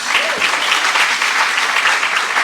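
Round of applause for an honoree at a high school hall of fame induction, a loud, steady, dense clapping from a large audience with a brief voice near the start.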